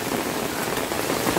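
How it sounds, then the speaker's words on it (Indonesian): Heavy rain pours around a village house in strong wind, with rainwater running off the roof and flowing hard, a dense steady rush of water without voices. "Sumpah ini hujannya luar biasa ini guys"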